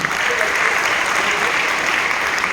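Audience at a motivational company event applauding, a dense, steady wash of clapping from many hands throughout, fairly close and loud with no distinct voices on top.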